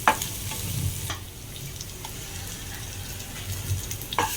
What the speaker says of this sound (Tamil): இப்போ இஞ்சி பூண்டு பேஸ்ட் ஆட் பண்ணிக்கலாம்.